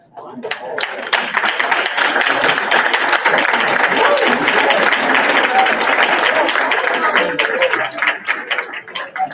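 Sustained audience applause for students inducted into a National Junior Honor Society at a school district board recognition event, steady dense clapping filling the room for several seconds before trailing off.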